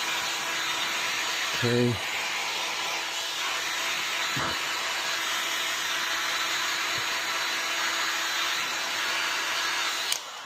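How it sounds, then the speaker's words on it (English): A heat gun blows a steady, loud airy roar over embroidery puff foam, the whoosh running throughout with brief tonal blips and a short spoken word. "You just want to wave the heat gun back and forth on the foam."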